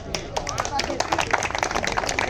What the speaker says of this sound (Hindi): बहुत कमजोर ताली है